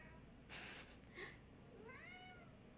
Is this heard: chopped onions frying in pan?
no